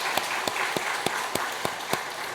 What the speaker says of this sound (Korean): 박수 환영합니다.